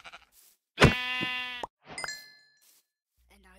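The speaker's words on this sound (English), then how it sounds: "And now he's killing some sheep. I can hear him." Minecraft sheep bleating in the video game: one loud, wavering bleat followed by a shorter second cry with a chiming tone, then near silence.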